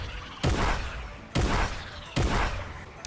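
Three separate, evenly spaced sharp gunshots sound from a Fortnite aim-training map in the video game, each with a short decaying tail, moderately loud over a low background.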